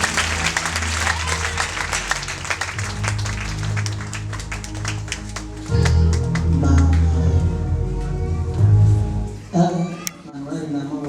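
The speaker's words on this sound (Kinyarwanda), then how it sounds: "Dukomere amashyi Umwami Yesu." Congregation at a Friday church prayer gathering claps hands in dense applause mixed with voices, music and shouting, loud and close, swelling midway before thinning out.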